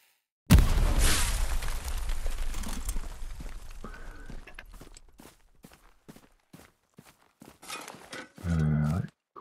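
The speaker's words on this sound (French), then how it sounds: "ça part bizarre la grenade" A grenade detonates in the PS5 war game Hell Let Loose, a sudden loud blast that rumbles and decays over several seconds, followed by rhythmic footsteps and a brief later thud.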